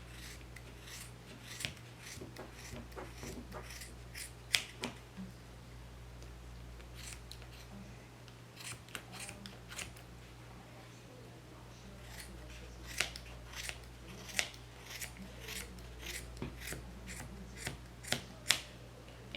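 Scissors snip repeatedly through a thick bundle of yarn wrapped for a shark pom pom, a steady run of sharp close cuts over a low hum.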